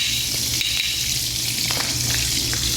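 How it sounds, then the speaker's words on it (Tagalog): Dried fish (tuyo) frying in oil, giving a loud, steady, close sizzle that runs throughout with light stirring scrapes and small pops. "luto tuyo tayo"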